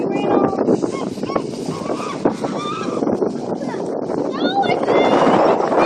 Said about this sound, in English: But look at all the duckies.